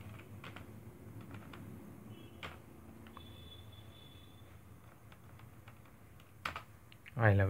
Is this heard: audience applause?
no